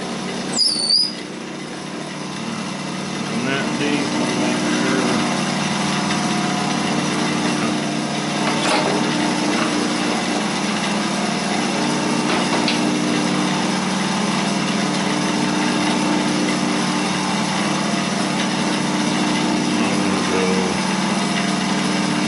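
A steady, continuous machine whir with a high mechanical whine runs throughout as a post oak pen blank is drilled on a lathe, with a few faint clicks.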